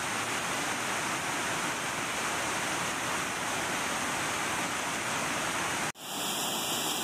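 Water rushes through the gates of the Sacramento Weir into the Yolo Bypass, a loud, dense, continuous roar like a waterfall, steady throughout before briefly dropping out near the end.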